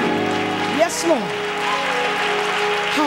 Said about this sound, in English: clap your hand like you know you're going to get something from God